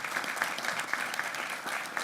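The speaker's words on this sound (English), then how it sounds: "Let's give Trey a round of applause." A room at a Board of Regents meeting gives a round of applause to welcome a new member named Trey, brisk, even clapping from a modest crowd throughout.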